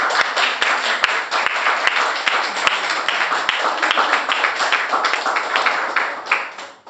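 A church congregation claps together during a worship service, brisk, fairly rhythmic applause from many hands, close and lively, with a few louder sharp claps standing out.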